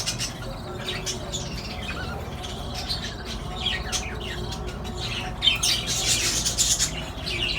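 Parrots in a small breeding colony of nesting boxes on a farm in Jeddah, Saudi Arabia, giving repeated sharp squawks and chirps over a low background hum, growing louder and busier toward the end.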